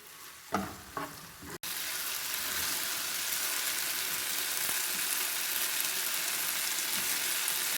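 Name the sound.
chicken frying in a pan on high flame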